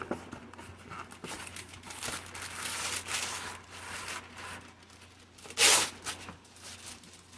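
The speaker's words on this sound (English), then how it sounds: "I will use a piece of wax paper." A sheet of wax paper is pulled and torn off a roll for a craft cake project, a stretch of crinkling and rustling paper building to one sharp, loud tearing rip near the end, with no talking.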